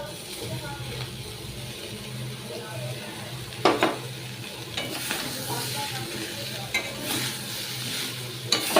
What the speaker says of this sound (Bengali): এবার একটু ভেজে নেবো উচ্ছে আলুটা দিয়ে